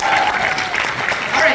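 An audience at Fan Expo Canada 2023 applauds at a game called This or That, a dense, steady round of clapping from a large crowd that holds loud throughout.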